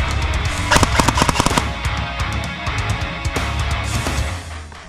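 Rapid airsoft gunfire during a May skirmish game in St Petersburg, a burst of sharp cracking shots close by, then scattered single pops and a few more bursts over a steady outdoor background.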